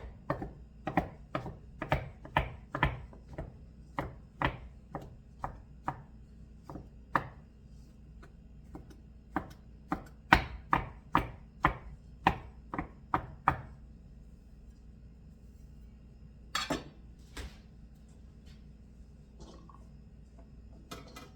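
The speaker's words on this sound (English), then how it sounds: "I'm going to finish chopping these mushrooms up" A knife chops mushrooms steadily on a cutting board, quick regular thuds that pause, then resume with a few scattered cuts; close and clear with no talking.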